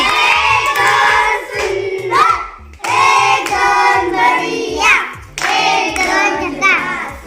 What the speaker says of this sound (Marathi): समर्थसाठी जोरदार टाळ्या सगळ्यांनी